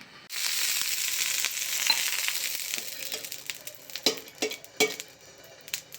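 Dosa made from biscuit batter sizzling on a hot pan: a steady, hissing fry with crackles and a few sharp clinks of a utensil near the end.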